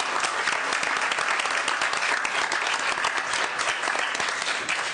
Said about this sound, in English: let's end this with a very enthusiastic round of applause for the leaders of tomorrow